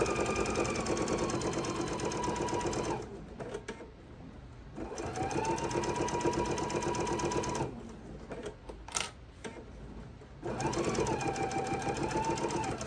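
A sewing machine stitches fabric for an oven mitt, whirring steadily and close in three long runs with quieter pauses in between where the piece is turned around curves.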